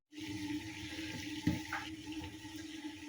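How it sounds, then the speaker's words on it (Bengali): A pot of water heats on a gas stove, giving a steady close rushing hiss with a low hum throughout and a slight surge midway, no voices. "এ দেখো জল গরম হচ্ছে"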